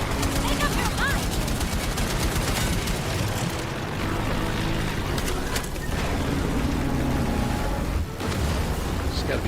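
Rapid machine gun fire from an aircraft during a low, weaving flight between buildings in Indiana Jones and the Great Circle, a dense sustained burst mixed with engine roar and game effects, with a voice talking over it.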